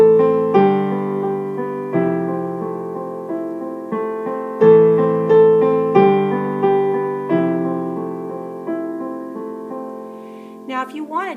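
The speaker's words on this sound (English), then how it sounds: "So here's what it sounds like when we add the left hand with it." Piano playing The Desert Song with both hands: lower notes and chords are struck every couple of seconds while right-hand melody notes ring over them, each decaying gently, with a brief rustle at the end.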